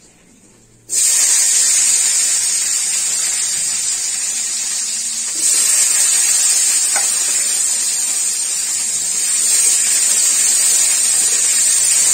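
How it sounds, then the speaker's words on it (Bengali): Bitter gourd sizzles loudly in hot oil after lentil dumplings were fried, a steady bright frying hiss that starts abruptly and swells slightly midway, with no voices. "বড়িগুলো ভেজে তুলে নিয়েছি এরপর আমি উচ্চেটা দেবো"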